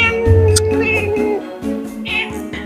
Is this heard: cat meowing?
yes